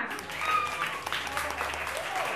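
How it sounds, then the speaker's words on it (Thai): An audience applauds at a guitar battle show, a dense burst of clapping lasting a couple of seconds with a faint voice mixed in. "ขอเสียงปรบมือเสียงดังๆด้วยค่ะ"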